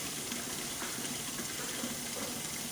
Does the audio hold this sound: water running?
yes